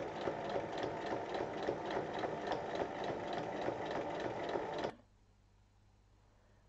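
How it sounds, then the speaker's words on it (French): Sewing machine stitching steadily around the edge of a fabric microwave bowl holder with a fast, even mechanical rattle for about five seconds, then stopping abruptly into near silence. "Et on pique tout le tour en laissant une ouverture de 8 cm."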